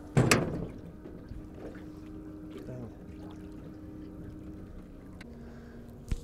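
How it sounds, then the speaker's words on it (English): A small 14-pound-thrust electric trolling motor drives an old 12-foot aluminum jon boat, giving a faint, steady low hum. A light splash of water comes at the start, with occasional small knocks and trickles over the quiet drone. "this trolling motor has 14 pounds of thrust, which seems to be moving me around"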